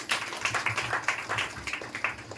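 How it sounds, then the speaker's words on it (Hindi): Audience clapping at a church gathering, a steady run of fairly quick, rhythmic claps from a small group, moderately loud and close. "ताली बजाइए अपने लिए"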